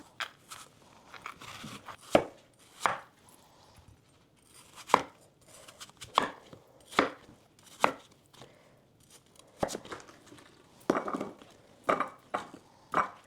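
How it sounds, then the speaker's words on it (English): A knife chops through an apple on a cutting board, giving a series of sharp, close crunching strikes at an irregular pace with short quiet gaps between them, and no one speaks. "I'm gonna cut myself an apple and maybe have it with like peanut butter"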